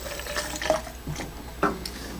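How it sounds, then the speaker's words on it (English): Alcohol poured into a measuring container up to the 100 millilitre mark while mixing thinner for acrylic paint, a soft, close trickle and splash of liquid with a couple of brief bursts. "I'm just going to pour until it comes up to my 100 milliliter mark"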